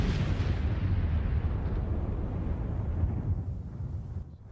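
A deep, roaring explosion effect for a primordial fireball starts at full force and slowly rumbles and fades over several seconds, heavy in the low end with no voices.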